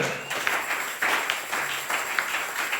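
Applause from a church congregation during a French-language sermon, steady broadband clapping with no talk, moderately distant and fairly quiet.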